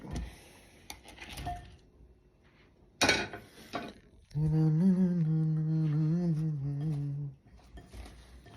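Gobi manchurian batter is stirred in a bowl, with a few close clinks and scrapes, then a sharp clatter midway, all fairly quiet and without speech.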